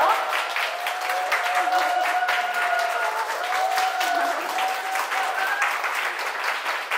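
Audience applause welcoming an artist onstage at an AI art exhibition talk concert, a dense, steady crowd clapping sustained for several seconds at even loudness, with no voices over it.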